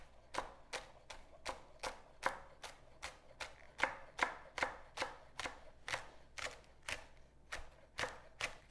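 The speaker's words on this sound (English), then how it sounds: "Now we're gonna cut up our cilantro and our scallions and prepare our bowls." A knife chops cilantro and scallions on a board in steady, evenly spaced strikes, about two per second, each a crisp close thud that rises clearly above a quiet kitchen background with no talking.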